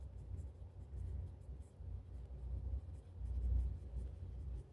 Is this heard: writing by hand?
yes